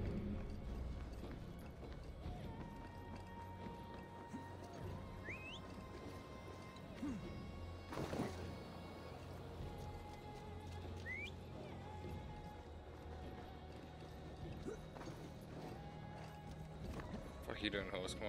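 Rapid clip-clopping hooves of a galloping horse in Assassin's Creed Valhalla under a voice, with occasional whistling tones and a brief crash midway.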